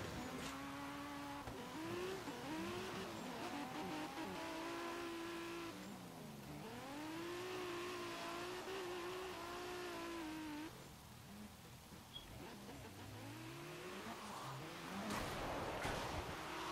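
In a Forza video game drift competition, a red Toyota Supra and a Mazda RX-7 rev hard with rising and falling engine whines, tires squealing through slides, loud and continuous without talk.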